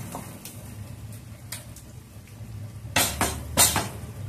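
Chicken being stirred in a pan for chicken bharta: a few sharp metallic scrapes and clinks of a utensil against the pan, clustered near the end over a low background hum.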